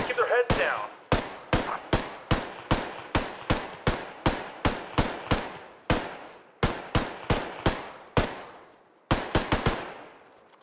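Gunfire in the tactical shooter Squad rings out as a steady series of sharp, loud single shots at a regular pace. Each report is followed by a short echoing tail, and the rhythm breaks briefly before a quick double shot near the end.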